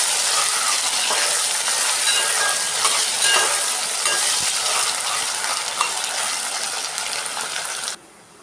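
A spice mixture of peanuts, dried coconut and coriander powder being stirred in a hot pan, giving a continuous close sizzling, scraping rustle that holds steady for about eight seconds before cutting off abruptly.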